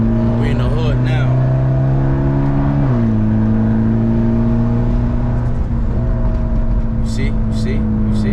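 A Mitsubishi Evo X engine drones loudly and steadily nearby, then its pitch drops once as revs change, with someone talking over it.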